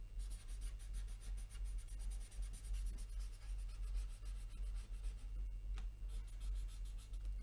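Pencil shading on paper being blended and smoothed, a soft continuous rubbing and scratching that runs steadily throughout, close and quiet under a low background hum.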